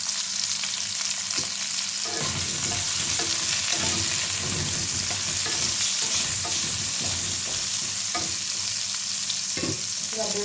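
Tomato fries in hot oil in a pan for a Greek dish, with a loud, continuous sizzle and crackle and scattered stirring scrapes close by.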